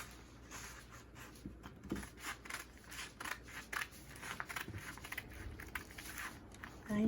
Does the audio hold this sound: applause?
no